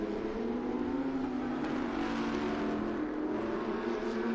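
Porsche race cars in an IGT sprint race at Circuit of the Americas accelerate down the track, a sustained, somewhat distant engine whine holding a steady pitch with no voices.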